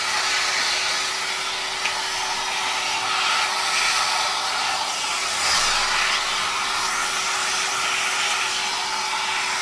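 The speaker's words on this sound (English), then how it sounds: "I'll get the vacuum out, we'll just vacuum." A workshop vacuum cleaner runs steadily and loudly with a constant whine and broad airflow roar, alone and without pauses, beside a milling machine whose spindle is stopped.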